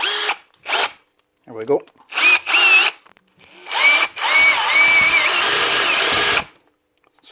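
A Hikoki cordless drill with a stripped gear fires in several short bursts followed by one longer whirring run, loud and close, with a few brief words spoken between bursts.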